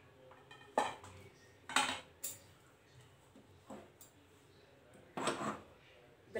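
Bread halwa is scooped into a serving bowl with several clanking spoon-on-metal scrapes and knocks, irregularly spaced and close, between quiet pauses.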